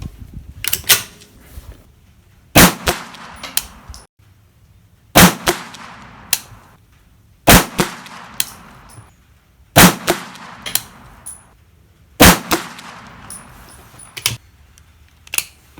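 Outdoor shooting with a 9mm PSA AKV rifle: loud, sharp close-range cracks fired in quick clusters, each cluster separated by a short quiet pause, with no talking.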